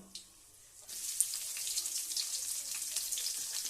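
Onion and chilli drop into a hot pan and start frying, a quiet start giving way to a sudden bright crackling hiss that carries on steadily with small pops.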